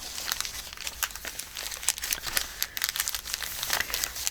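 A paper page of a junk journal made from recycled mail and coffee-dyed papers flipping up, with close, continuous crinkling and rustling of paper handled throughout, full of small crisp snaps.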